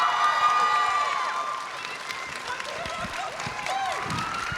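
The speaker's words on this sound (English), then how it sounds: "can we have one final round of applause," Applause and cheering from the audience for the panelists at a Minecraft storytelling panel at TwitchCon San Diego, a sustained burst of clapping with whoops and shouts, loud at first and easing slightly.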